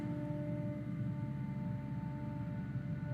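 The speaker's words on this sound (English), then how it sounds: "It does sound like a truck, I just don't think it's a garbage truck because they would be gone by now." Steady low rumble of an idling truck outside, not a garbage truck, continuous and fairly loud throughout with a constant engine drone and faint tonal hum, no voices.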